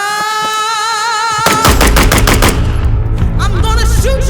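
A MAC 9 DS Comp pistol fires a fast, dense string of sharp shots that crack loudly and echo, coming in just after a steady tonal hum cuts off.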